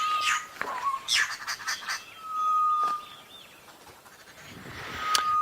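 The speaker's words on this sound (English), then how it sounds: "the bird life around us is really great at the moment. The babblers, the starlings," African bush birds, including babblers, starlings and a grey-headed bush shrike, call around an outdoor spot at sunset: scattered squawks, chatter and a few clear whistled notes, moderately distant, over faint background hiss.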